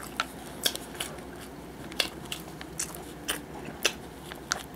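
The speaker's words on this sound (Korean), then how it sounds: "치즈 씹어 먹으니까" Someone chewing a cheese French hot dog from a convenience store: close, soft crunchy bites and wet mastication in an uneven rhythm over a faint background hum, without talk.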